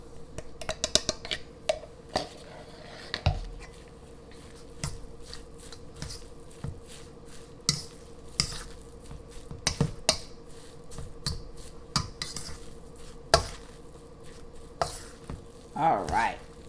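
Salmon croquette mixture worked together with plain breadcrumbs and cornmeal, producing close, irregular wet squelches, pats and taps, some sharp, spread unevenly across the whole stretch.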